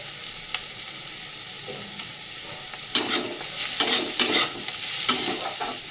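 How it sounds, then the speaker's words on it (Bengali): Vegetables stir-fried in a pan, a quiet sizzle that swells into louder bursts of hissing and scraping as the spatula tosses them, several stirring strokes in the second half, near and without speech. "এটা ভাজা হয়ে গেলে একটুখানি তারপরে সবজিগুলো সব ভাজা হয়ে গেছে"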